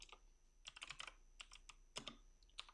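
Typing on a computer keyboard while coding an ecommerce admin panel, with quick, soft clusters of key clicks in irregular bursts and short pauses, faint and close.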